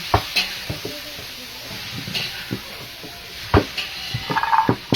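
Chopped onion sizzling in a hot pan while being stirred, with sharp scraping and clinking strokes of the utensil punctuating a steady frying hiss, close and fairly loud.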